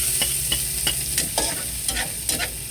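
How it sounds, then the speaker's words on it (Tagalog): Garlic and onion sautéing in a pan, a close steady sizzle broken by repeated scraping and stirring strokes of a utensil. "Makagisa lang tayo sa bawang at saka sibuyas."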